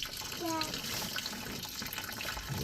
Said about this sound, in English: My valve ain't shutting off. Still got some water coming through.